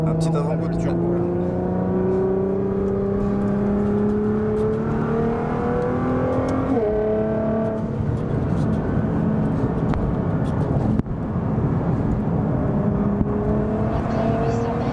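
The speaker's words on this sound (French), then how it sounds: "Un petit avant-goût de turbo là." A Nissan GTR R35 tuned to 650 hp at stage 4, its turbo engine pulling hard with rising revs, a gear change and a second climb, loud and close from inside the car.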